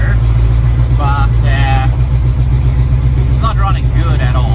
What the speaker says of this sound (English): If I give it some more throttle, I think it runs better